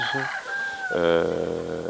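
Hens and a rooster on a monastery farm with livestock nearby: a few close clucks give way to a drawn-out crow, with a faint voice talking in the background.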